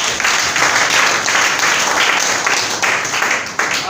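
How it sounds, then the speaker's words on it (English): An indoor audience at a lecture gathering applauds steadily and loudly, a dense wash of many hands clapping throughout with no voices on top. "Please give a round of applause."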